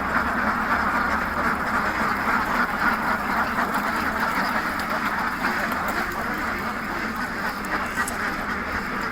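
Farm ducks quack in a dense, continuous chorus of overlapping calls, steady and fairly loud throughout.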